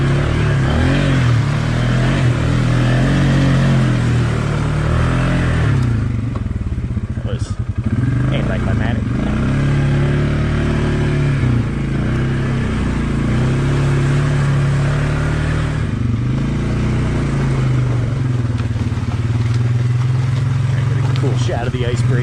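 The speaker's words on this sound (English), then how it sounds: "I'm only barely touching the throttle, and this thing, like I said, it moves up these hills, it moves over the bumps, over rocks, everything." A 450 dirt bike fitted with an EPI clutch kit rides over hills, bumps and rocks, its engine droning loudly and steadily with rising and falling revs while a rider talks over it.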